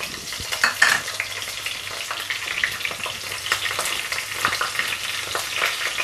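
Chopped green chillies sizzle and spit in hot oil in a pan during a prawn, brinjal and tomato curry, a steady dense frying hiss with a louder burst near the start and occasional stirring scrapes, no talking.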